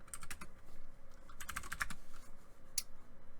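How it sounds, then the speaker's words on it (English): Quick bursts of keystrokes on a computer keyboard entering a terminal command, clustered into short runs of clicky taps with brief pauses, close and fairly quiet. "So you're going to go to your terminal and type sudo autopsy"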